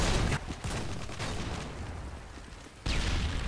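Gunfire in Call of Duty: Modern Warfare 2 online multiplayer, dense and loud with continuous rattling shots and a brief lull before the firing resumes.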